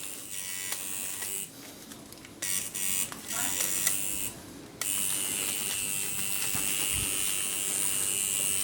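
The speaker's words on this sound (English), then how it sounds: "I listen to the machine and turn up the machine until I hear it kick on." A tattoo machine buzzes in a steady electric whine, starting and stopping in short bursts before settling into a continuous run, close by with no talking.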